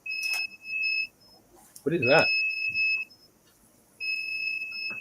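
A battery backup unit sounds a repeated high electronic beep in long steady tones with pauses between them, loud and near, while a person speaks briefly in the gap.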